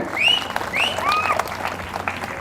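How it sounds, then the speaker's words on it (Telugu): An audience at Renjarla Rajesh's speech in Pedha Golanka breaks into steady, dense applause, with a few whistles rising above the clapping. "నేను ఒక మాట అనగానే ఇప్పుడు మీరు అందరూ చప్పట్లు కొడతారు."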